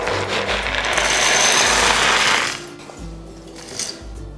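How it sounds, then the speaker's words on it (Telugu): A mixer grinder jar grinds peeled peanuts into powder, running in loud, rough whirring bursts separated by short pauses, with no voices. "ఇప్పుడు మూత పెట్టుకుని పొడి చేసుకుందాము."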